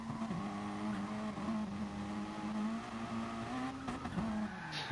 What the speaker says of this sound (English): Yeah, just went full throttle a little too soon, and into the barrier he goes.